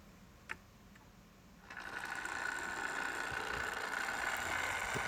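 An AHM HO scale GE U-boat model locomotive runs on track after a soft click, its small motor starting up into a steady, faint mechanical whir and hum.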